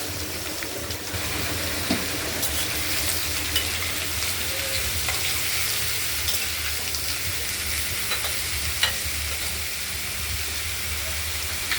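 Thinly shredded pumpkin fries in a kadai with oil, mustard seeds and green chili, giving a loud, continuous hiss and crackle for the whole stretch, with occasional light stirring and no voices.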